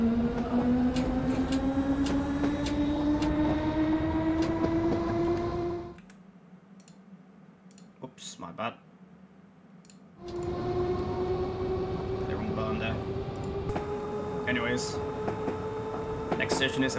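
London Underground District Line train in Train Simulator, its traction motor whine rising steadily in pitch as it pulls away, then cutting out into a quieter pause with a few clicks before the rising whine returns.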